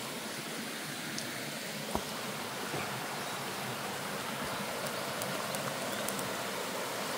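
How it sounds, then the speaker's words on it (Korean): A clear mountain stream trickles and gurgles beside a slippery trail, a steady, unbroken wash of flowing water heard alone with no talking. "맑은 물이"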